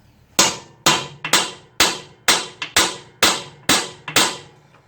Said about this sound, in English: I'll use the side of the hammer.